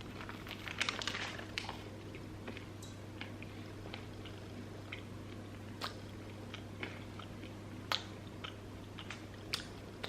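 Someone chews a crunchy breadstick up close, producing irregular crisp bites and crunches over a low steady hum, with no talk.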